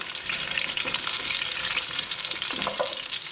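Small whole onions sear in hot oil left from browning lamb shanks, a loud, continuous sizzle and crackle with occasional stirring scrapes and no talk.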